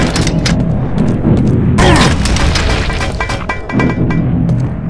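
Grenade weapon explosions in the Quake 2 demo, loud booming blasts layered over constant battle noise, with one heavy detonation near the middle and more scattered impacts around it.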